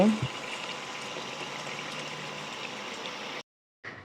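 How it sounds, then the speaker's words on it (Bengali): A thin homestyle Bengali fish curry of catla with ridge gourd and potato, a pinch of sugar added, bubbles vigorously in a pot as a steady, close boiling hiss that cuts out briefly near the end. "এবার এটা ভালো করে টকবক করে ফুটিয়ে নিয়ে নামিয়ে নেব"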